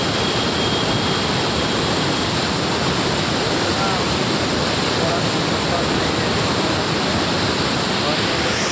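A loud, continuous roar of the Son river pouring through ten open gates of the Indrapuri barrage in Bihar, a dense, unbroken rush of water heard up close for the full length.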